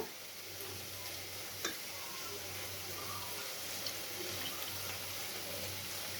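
Chicken for pickle cooks in a pan as its water boils off, a steady soft sizzle and bubbling hiss that runs throughout at low level, with an occasional faint clink.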